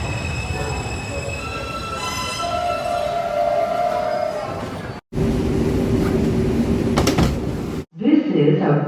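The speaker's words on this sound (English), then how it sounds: "Stand clear of the closing doors, please." A Brooklyn-bound 2 express train on the IRT 7th Avenue Line at 116th Street station, with loud rumbling and squealing wheels, a short break, then a door chime and the subway doors sliding shut near the end.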